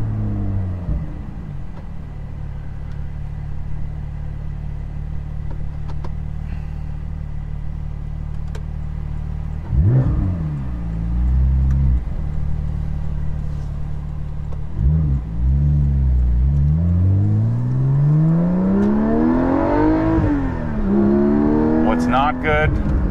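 Porsche 718 GT4 fitted with a Soul Performance rear exhaust section, heard from inside while driving: a steady engine drone under the cabin, then two sharp revving surges that climb and fall, with a long rising pull near the end.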